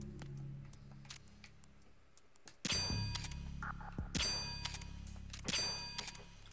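Three resonant metallic bell strikes ring out in Metal Gear Solid 2: Sons of Liberty (NTSC), each a sharp clang with a lingering ringing tail. They come spaced roughly a second and a half apart over low, quiet game ambience.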